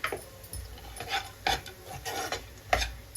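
Sweet potato halwa with ghee and dry fruits is stirred in a pan, producing close, irregular scraping and clinking strokes of a spoon against the pan.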